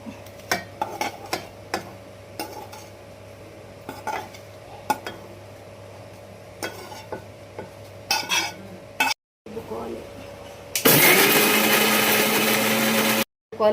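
Utensils clink and scrape several times, then a loud electric mixer grinder whirs steadily for a couple of seconds grinding fried ginger, garlic, tomato and onion into paste before stopping.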